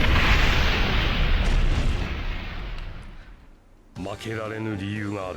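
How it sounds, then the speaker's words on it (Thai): An explosive tag blast in the video game Naruto Shippuden Ultimate Ninja Storm 4 gives a loud, broad roaring rumble that fades over about three and a half seconds. A character's voice then calls out over the tail of the blast. "ยันระเบิดประสาน บุ๊ม คือโจมตีไปด้วยแล้วต่อยยันไปด้วย"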